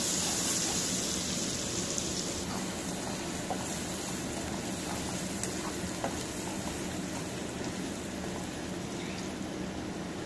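Onions frying in a pan: a continuous, even crackling sizzle, close and fairly loud, with faint stirring ticks and no voices.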